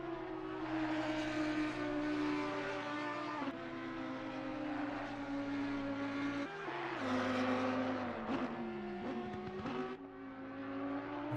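Audi R8 GT race car screaming through the gears around Laguna Seca in a racing game, a loud sustained engine note rising and falling with shifts and braking, no talk over it.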